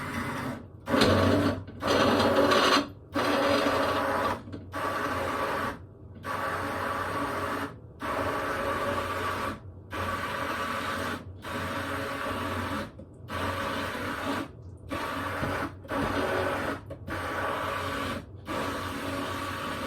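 A blender whirs through a batch of French dressing in short, loud bursts, starting and stopping repeatedly with brief gaps between pulses, close and noisy, no talking.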